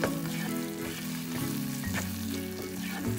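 Carrot laddu mixture with fried cashews and cardamom powder stirred in a pan: a close, continuous sizzle and frying crackle with soft stirring scrapes, no voices.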